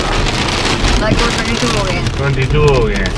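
Heavy rain pours down during a road trip in Ghent, Belgium, a loud, dense, unbroken hiss mixed with wind buffeting while someone talks over it.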